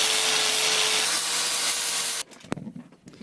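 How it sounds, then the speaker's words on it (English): An angle grinder fitted with a new flap disc grinds rubber and metal off a car's rear trailing arm bush, giving a steady, loud abrasive roar that cuts off abruptly and leaves faint scraping and one sharp knock. "I'm going to sort out the grinder, get prepared with a brand new flap disc, and I'm just going to mash away the rubber and then hopefully the metal as well"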